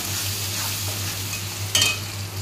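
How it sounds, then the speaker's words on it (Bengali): Garlic masala sautéing in a pan for a red chicken curry, a steady close sizzle with stirring and one brief utensil scrape near the end. "এবার এইটা ভালো করে কষিয়ে নেব।"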